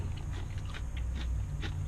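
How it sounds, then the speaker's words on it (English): Crunchy boneless chicken wings from Wingstop, coated in citrus piri piri pepper, are bitten and chewed close to the mic. The crisp crunches are brief and repeated, and no one speaks. "Those boneless wings are super crunchy."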